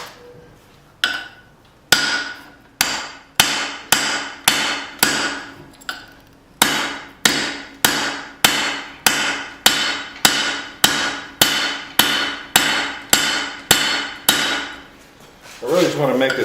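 Cross peen hammer forging a micro hatchet, a steady run of about twenty sharp, ringing metal blows at close range, roughly one per second with a brief pause midway, no talking.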